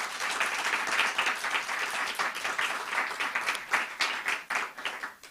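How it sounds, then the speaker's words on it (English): A large audience at a lifelong learning city event gives its first-half speakers a sustained round of dense, loud applause that carries on for several seconds with slight swells before thinning toward the end. "If we can just give a massive round of applause to all of our speakers in that first half."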